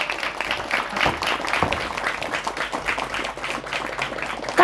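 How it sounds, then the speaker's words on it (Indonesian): An audience at an Islamic sermon applauds for the santri and the pesantren, a steady wash of many hands clapping at moderate distance that holds through the whole stretch. "Tepuk tangan untuk santri dan pesantren."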